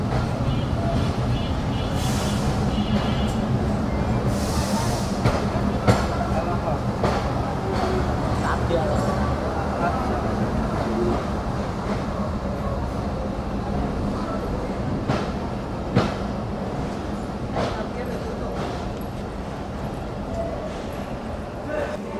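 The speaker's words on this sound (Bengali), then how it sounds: "আর আমাদের বেতনা কমিউটার নির্ধারিত সময় থেকে 9 মিনিট পূর্বেই প্রবেশ করলো একদম সেই সুদূর বেনাপোলে" The Betna commuter train rolls into Benapole station with a continuous rumble, clatter and occasional clanks, heard from on board and close.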